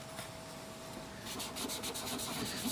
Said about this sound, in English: So this area that I am sanding right now